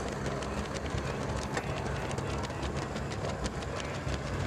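At the Prague International Marathon, leading runners and pacers in Adidas shoes strike the concrete in a dense, steady rhythm of footfalls, heard up close with no talk over it.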